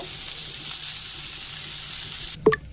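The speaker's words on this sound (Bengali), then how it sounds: "আলুটা আবার একটু কম আঁচে ভাজতে হবে, কারণ আলুটা সিদ্ধ হতে হবে।" Potatoes fry over low heat in a pan of oil where fish has just been fried, making a continuous close sizzle that is cut off near the end by a brief clatter.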